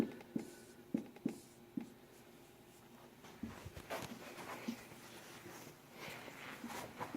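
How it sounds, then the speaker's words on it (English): A pen writes a book title by hand on the front cover of a children's book, giving faint, close scratching strokes in short bursts with small taps and pauses between them, and no talking. "So I'm going to write Clifford's"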